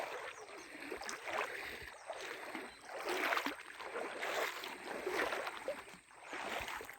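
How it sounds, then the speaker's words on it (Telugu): Stream water rushes and gurgles steadily close by, a dense continuous wash with a few brief splashes and no talk over it. "నీళ్ళ సౌండ్ కూడా వస్తుంది."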